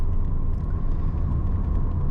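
A Holden Calibra coupe accelerating toward 100 km/h, heard from inside as a steady, smooth engine hum with low road rumble that holds even throughout.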